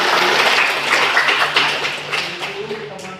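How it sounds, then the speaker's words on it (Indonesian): A classroom of students applauds a classmate, dense steady clapping that fades slightly toward the end, close and loud. "kita berikan tepuk tangan"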